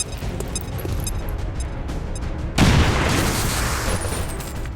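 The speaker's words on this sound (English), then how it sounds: "Look out, grenade. Let's bring the booms." A grenade detonates in XCOM 2, a steady roar of battlefield noise suddenly broken by a loud, deep boom that bursts in and leaves a long rumbling, hissing tail as it slowly dies away.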